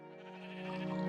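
Sheep bleating in a video game, one short, clear, nasal bleat that rises slightly in loudness, heard alone.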